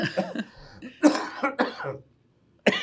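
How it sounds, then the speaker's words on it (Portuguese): Several bursts of coughing and throat clearing from a nearby adult, irregular and loud, with a short silent gap before a final cough. "Dá só uma pausa que eu vou tossir aqui."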